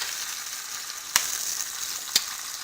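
Rabbit pieces fry in a pan for a maple and spice braise, giving a soft, steady sizzle. Two brief sharp clicks break through it, close by, and no one speaks.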